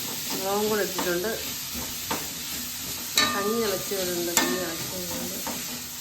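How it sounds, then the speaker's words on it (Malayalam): Onion, ginger and garlic sauté in a pan for a simple chicken curry, with a constant sizzle, stirring scrapes and occasional clicks as a voice talks over the cooking. "ഇത് വഴറ്റിയെടുക്കണം ഏകദേശം ഒരു ബ്രൗൺ കളറാണ് വരാം വഴറ്റിയെടുക്കണം"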